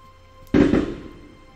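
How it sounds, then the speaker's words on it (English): Fireworks burst just outside a window: a single sharp, loud boom that rolls off in a crackling, rumbling decay over about a second, with no talk. "they're both doing fireworks right outside my window"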